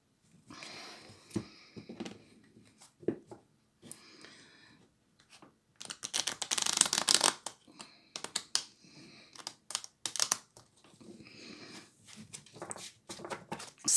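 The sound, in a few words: shuffling tarot oracle cards for a reading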